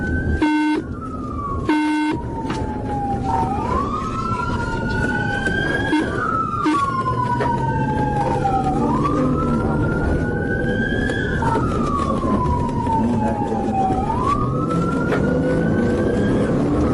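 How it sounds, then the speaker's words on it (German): Police car siren wailing loudly and continuously in rising and falling sweeps as the vehicle races at high speed with blue lights on along a street during a chase, with steady road and engine noise underneath. "Das Fahrzeug schaltete Blaulicht und Sirene ein und raste mit hoher Geschwindigkeit die Paul Eales Street entlang."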